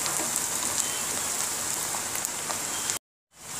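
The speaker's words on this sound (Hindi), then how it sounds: "इसको भी साथ में ही मैं इसके फ्राई कर लूंगी हल्की गुलाबी होने तक प्याज को" Onions and whole red chillies frying in a pan for egg curry, a dense, even crackling sizzle held close and steady, then cut to silence near the end.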